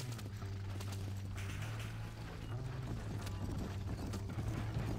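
A horse gallops in the video game Red Dead Redemption, its hooves beating a steady, fast clip-clop under a loud, constant low engine-like drone of game sound, with no talking.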